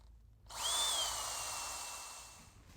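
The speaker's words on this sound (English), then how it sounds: "Now all we have to do is drill here on the pinch weld on the body" A power drill bores into the pinch weld on a Ford F-250 truck body, one close, loud burst with a high whine that holds steady for about two seconds before easing off.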